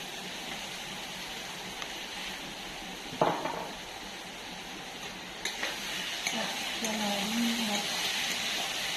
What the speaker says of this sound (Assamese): আদা নহৰুখিনি খুন্দিছিলোঁ সেইখিনি দি দিম এতিয়া